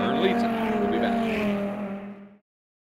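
Race cars at Hallett Motor Racing Circuit, a steady high engine whine from a car passing, loud at first and then fading quickly to silence.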